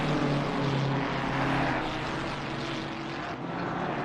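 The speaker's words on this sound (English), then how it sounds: "There's some engines on the stream at the moment" GT3 racing car engines drone in a sim racing game at Kyalami, a dense continuous mechanical roar with steady pitch and no breaks, loud throughout.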